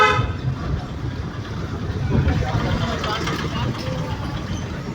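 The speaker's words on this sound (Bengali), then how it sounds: "হর্ন বাজাও, গলির মুখ আছে।" A car horn sounds at the very start while driving along a bumpy lane near an alley entrance, then fades into continuous road and engine rumble with talking over it.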